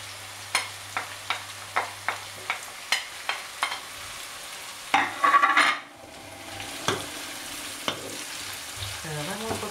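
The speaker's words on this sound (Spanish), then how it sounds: "ahora vamos a añadir la cebollita y las demás verduras" Onion and mixed vegetables sizzle quietly in a pan for a vegetable tortilla, with a regular series of sharp utensil taps and scrapes, then a louder burst of stirring and a softer continuing fry.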